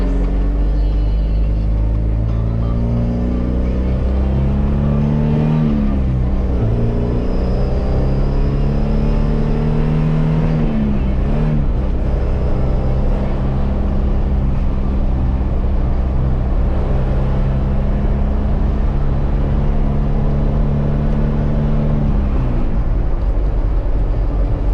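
Car engine and exhaust with no resonator fitted, droning loudly while driving, a low steady rumble with a few brief dips and rises in revs and no talking.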